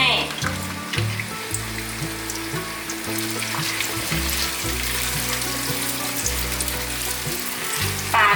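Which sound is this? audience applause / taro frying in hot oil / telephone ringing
taro frying in hot oil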